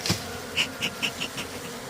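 Honeybees buzzing at an open hive in a series of short, bright bursts, about six of them spaced roughly evenly, fairly close and moderately loud with no talking.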